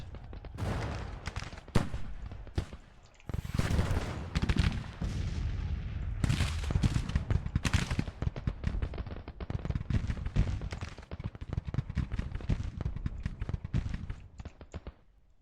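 Artillery and gunfire battle in the Grand Tactician strategy game during an engagement on the far left with artillery crews, a dense continuous roar of cannon booms and rifle volleys with sharp cracks throughout.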